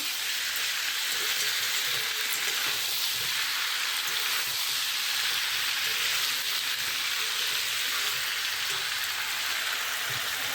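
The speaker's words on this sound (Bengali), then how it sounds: "আলু ফুলকপি দিয়ে তরকারি কষাচ্ছি" A pan of potato and cauliflower curry sautéing in a home kitchen, giving a steady, loud, close sizzle and hiss that runs unbroken from start to finish, with no talking.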